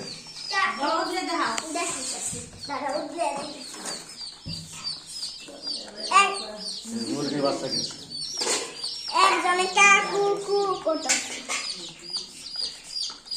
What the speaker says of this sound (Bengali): আজকে আবার মুরগির বাচ্চা কিনছে